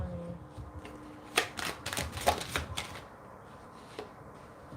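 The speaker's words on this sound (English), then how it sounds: "One more shuffle." A deck of tarot cards is shuffled close by in quick riffling bursts and sharp snaps, several short shuffles in a quiet room.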